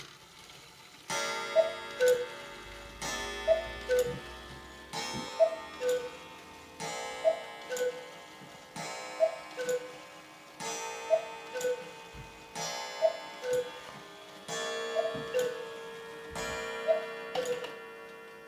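A rare exposed Johann Baptist Beha cuckoo clock with its original pipes ticks in a steady, even tick-tock rhythm, close and clear with no talking.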